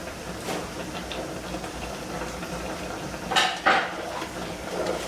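Cranberries pop and crackle in a hot pan, with scattered small snaps over a steady sizzling hiss and a couple of louder bursts near the end, alone with no talking.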